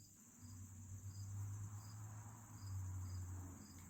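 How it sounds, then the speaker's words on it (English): A cricket chirps outside in wilderness surroundings, a faint, regular pulsing trill repeating every half second or so, heard through a quiet room over a low steady hum, with no voices. "Now you can hear the cricket outside."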